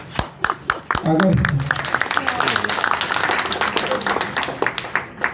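An audience claps at a speaking event on cyber crime and children's education. A few scattered claps build into sustained, dense applause from the crowd, with a voice talking over it.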